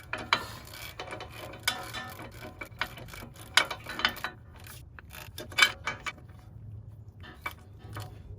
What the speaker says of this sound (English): We're gonna start to tighten up the nut until the stud starts to spin.